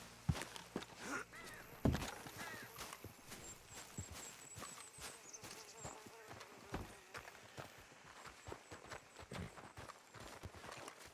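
Horse hooves clip-clop at a walking pace in the Red Dead Redemption 2 video game, quiet and irregular, with a few heavier thuds, mixed with faint ambient game sounds.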